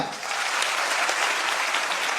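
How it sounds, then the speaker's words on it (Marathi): A crowd at a Marathi motivational speech gives the stage a burst of loud, dense applause. The clapping is sustained and close for about two seconds. "एकदा विचार मंचासाठी जोरदार टाळ्या होऊ द्या"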